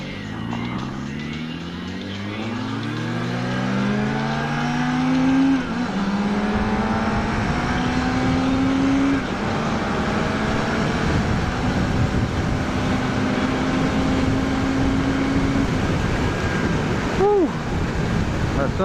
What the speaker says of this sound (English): I absolutely love that R1. It is a beast of a bike. Sounds amazing.